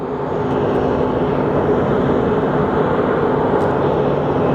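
A Boeing 787 Dreamliner passes overhead at Phoenix Sky Harbor Airport, its jet engines making a loud, continuous, broad roar that holds steady throughout, with no voices.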